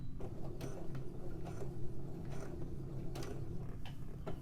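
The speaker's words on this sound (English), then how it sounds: "So we'll go right to that edge. We'll back stitch." A sewing machine back-stitches at the edge of fabric while a gusset is sewn in, a steady close mechanical whir with faint ticking needle strokes throughout.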